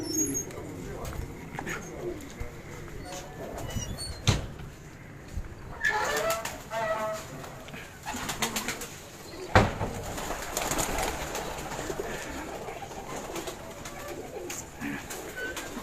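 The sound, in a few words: Teddy breed high-flyer pigeons cooing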